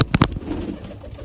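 Pigeons in their loft make a soft, close cooing, with a couple of brief louder wing or movement bursts at the start and a low murmur after.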